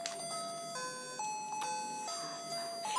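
A potty training timer watch plays a short electronic melody of bright, clear beeping notes that step up and down in pitch, close and fairly loud, with no talking.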